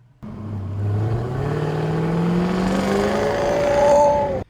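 A single car engine revs up with a rising exhaust note, climbing steadily in pitch through the gears before cutting off abruptly, loud and close with no talking over it.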